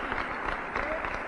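Audience clapping at a Cleveland LGBT Heritage Day celebration, a brief, steady burst of applause from a gathered crowd at moderate loudness.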